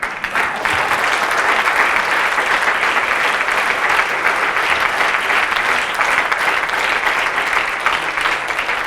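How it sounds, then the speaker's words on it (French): Sustained, dense applause from a large audience at a gender equality forum fills the space evenly and loudly for several seconds, with no speech over it. "Et les applaudir encore plus fort parce qu'ils ont osé être là."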